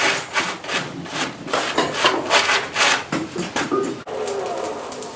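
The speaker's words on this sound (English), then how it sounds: "take this over, brush it, and yeah, use the little tapping hammer to clean the scale" Stiff wire brush scrubbing scale off hot forged metal at a blacksmith's anvil, a near, loud run of rough rasping strokes in steady rhythm with brief pauses.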